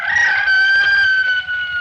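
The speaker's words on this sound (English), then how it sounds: "And below us somewhere a rooster crowed" A single loud rooster crows in one sustained, close cock-a-doodle-doo, performed as a radio drama sound effect with nothing else audible.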